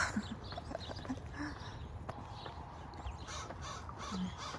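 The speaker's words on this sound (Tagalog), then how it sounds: "Uwak." Faint crow caws sound a few times in the distance over steady outdoor ambience in a park, with occasional soft footsteps nearby.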